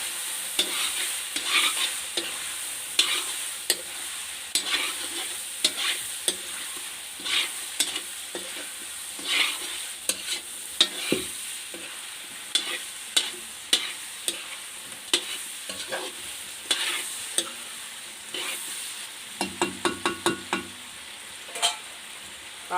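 Duck meat fried with homegrown turmeric for an Assamese-style curry is stirred in a pan, with repeated close scraping strokes over a continuous soft sizzle and a quick burst of stirring near the end.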